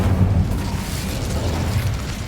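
An Incendio fire spell is cast in the video game Hogwarts Legacy, a heavy, rumbling fiery burst that roars steadily and loudly throughout.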